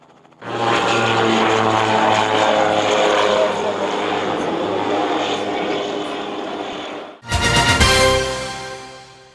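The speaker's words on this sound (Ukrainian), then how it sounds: "А поки що всі бажаючі можуть замовити екскурсію на спортивному літаку по небу нашого міста та району." A propeller-driven sport airplane flies nearby during a sightseeing flight over a city, with a steady, loud engine drone and whirring prop that continue throughout and surge again near the end.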